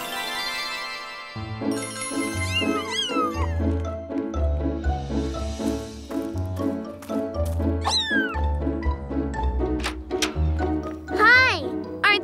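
Cartoon cat meowing repeatedly, high bright meows rising and falling over a light musical backing with jingly notes, loud and close throughout.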